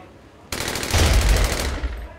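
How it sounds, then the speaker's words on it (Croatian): Machine-gun fire erupts abruptly in a loud, rapid rattling burst that swells and then trails off within about two seconds. "Odjednom rafali,"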